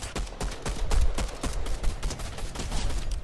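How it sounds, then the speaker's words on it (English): Rapid bursts of gunfire from a Fortnite match crack out in an uneven volley of sharp, loud shots, one after another with no talk. "let's shoot at someone over here"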